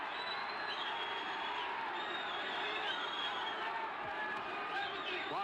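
A boxing crowd at a 1993 fight roars and murmurs in a continuous wash of cheering and shouts, with a commentator's voice running over it throughout.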